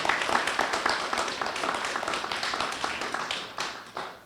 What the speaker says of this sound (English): Can I hear a little round of applause for those folks?